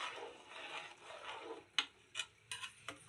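Quiet scraping and stirring of rice in a pot for vegetable pulao, a soft gritty rubbing followed by several distinct taps of a spoon against the vessel, close and faint.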